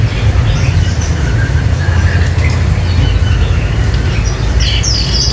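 Two Chinese hwamei songbirds in cages sing faint, scattered whistled notes amid a constant low background rumble, with brighter trills toward the end.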